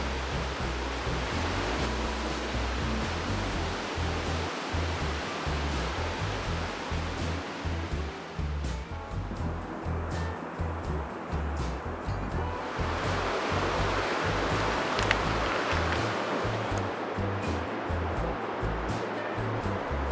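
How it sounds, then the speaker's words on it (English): The North Fork of the San Joaquin River rushes through a boulder-strewn canyon in the High Sierra, a steady broadband roar of churning water that continues unbroken. "a canyon where the North Fork of the San Joaquin River starts building up"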